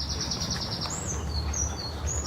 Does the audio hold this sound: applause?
no